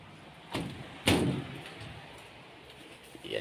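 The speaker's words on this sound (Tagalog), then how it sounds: "Mapabukas nga po ako ng pinto." A door is opened in a home kitchen, giving a soft bump followed by a louder thud and a brief rattling scrape, with faint room noise afterward.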